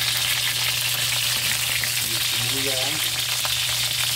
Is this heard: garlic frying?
yes